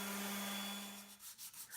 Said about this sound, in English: I also like to use a random orbital sander on a Carve top